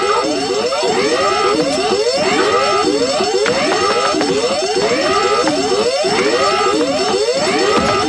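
Palace alarm ringing loudly and without pause, a repeating pattern of rising and falling electronic warbles with a steady buzzing tone underneath.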